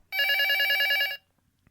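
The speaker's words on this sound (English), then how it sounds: "Okay, phone's ringing." A telephone bell rings once, a loud, bright trilling burst of about one second, then stops into near silence.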